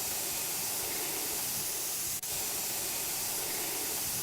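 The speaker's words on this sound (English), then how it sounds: "Look at that spray, nice bright yellow cabinet." A paint spray gun in the Junkyard Builder video game sprays bright yellow paint onto a cabinet, giving a continuous loud, even hiss that holds steady throughout with a single momentary dropout near the end.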